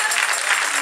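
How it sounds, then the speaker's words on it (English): A church congregation gives a brief burst of praise clapping, a dense wash of many hands heard for under a second, loud and close, with no voices over it. "let's just give God a great hand clap of praise"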